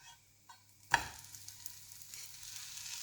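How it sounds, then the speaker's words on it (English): A pancake lands with a soft slap in a hot pan at about one second, followed by a steady, close sizzle that continues to the end with no talking. "Now we're going to flip the pancake and here we go."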